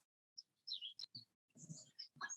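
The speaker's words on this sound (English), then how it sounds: "I can hear the birds chirping," Birds chirp and tweet outdoors in spring, a few short bright calls scattered over a couple of seconds, fairly close and clear with quiet gaps between.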